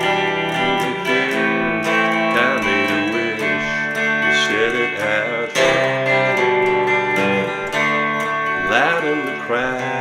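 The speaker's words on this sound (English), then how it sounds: "I'm just playing the last part of the verse coming into that" Guitar playing the end of a verse of a song: bright strummed and picked chords in steady rhythm, full and close, continuous throughout with no voices.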